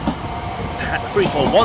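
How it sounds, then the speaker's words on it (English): A London Overground Class 710 electric train, unit 710-107, pulls out of Bethnal Green station with a low rumble and rising whine, while a voice talks over it. "710-107 departs with the 1917 London Overground service from Chingford to London Liverpool Street"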